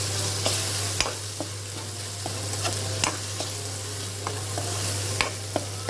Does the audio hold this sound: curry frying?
yes